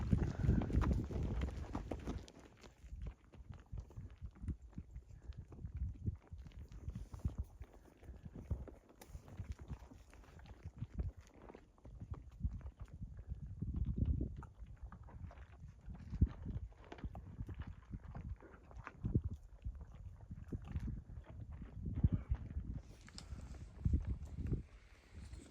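A ridden horse at a camp clip-clops steadily over firm ground, the hoofbeats falling in a regular walking rhythm at moderate distance with wind and faint movement noise, and no talking.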